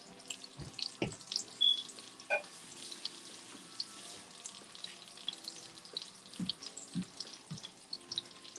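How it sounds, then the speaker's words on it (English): Tap water runs and splashes as a casserole dish is rinsed at a kitchen sink, a steady trickle broken by a few clunks of the dish against the basin. "So you will need 1 casserole dish. Rinse it out."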